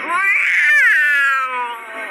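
A drawn-out, wavering cat yowl, high and whiny, rising and bending in pitch before trailing off; sounds like a cartoon cat.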